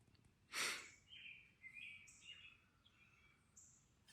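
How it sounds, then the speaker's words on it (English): Birds sing just past 6 a.m. at dawn in rural Virginia, with a few faint chirps and short whistled phrases at a distance over quiet background. A brief breathy noise comes near the start. "The birds we hear right now is because it's just a little past 6 a.m."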